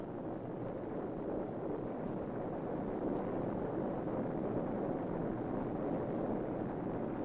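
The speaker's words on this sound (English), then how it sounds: "The first stage booster motor is now firing." A Pershing missile's first-stage solid booster motor fires on a static test stand, giving a loud, steady, unbroken roar with a constant rumble that holds from start to finish.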